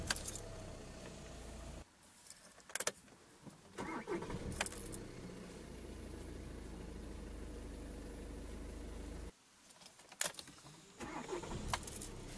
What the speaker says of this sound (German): Und den Schlüssel einmal ins Zündschloss und drehen.